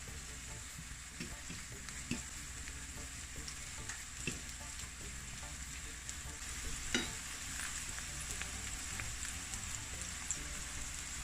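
Plantain slices fry in hot oil in a pan, giving a steady close crackling sizzle throughout, with a few soft taps as they are turned over.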